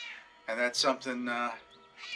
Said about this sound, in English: If you hear a little cat in the background